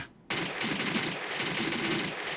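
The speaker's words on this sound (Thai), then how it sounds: "ถ้ายิงแบบกดค้างน่าจะไม่แม่นนะ" Dense automatic gunfire from the Black Squad online shooter, starting abruptly after a brief quiet moment and continuing as a loud, steady burst of rapid shots to the end.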